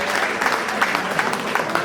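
Audience at an information session on coin collecting and history breaks into applause: dense, steady clapping that carries evenly through the short stretch with no voices over it.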